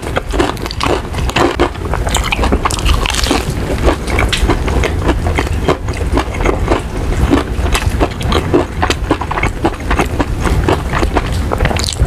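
Crunchy fried chicken leg and thigh bitten and chewed up close, dense crackling crunches running continuously and loudly throughout, with little talk.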